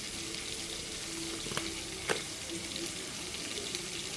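Frying in a pan with salt, chilli powder and turmeric powder added, a steady close sizzle with a couple of soft scraping stir strokes.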